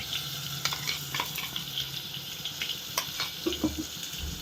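Onion chili paste fries in hot oil with dried red chilies and tempering spices, giving a close, continuous sizzle broken by scraping stirs and small bubbling pops.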